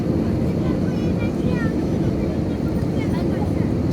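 Steady broadband roar of an aircraft with IAE engines landing in rain, a continuous loud cabin drone with some wind-like hiss holding evenly throughout.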